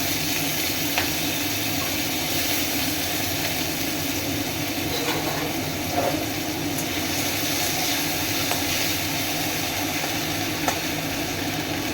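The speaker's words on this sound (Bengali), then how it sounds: "এবার কেটে রাখা ক্যাপসিকাম আলু আমি দিয়ে দিই" Potato and capsicum pieces fry in hot oil in a wok, giving a steady, close, unbroken sizzle throughout with no talking.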